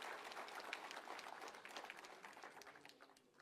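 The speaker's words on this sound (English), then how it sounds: "So he really deserves a big round of applause." An audience at a public address gives a round of applause, a dense, lively clapping that gradually tapers off toward the end.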